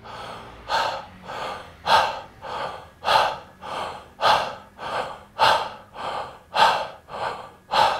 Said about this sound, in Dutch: Dat is een kort deel van de uh, verbonden ademhalingssessie zoals ik ze geef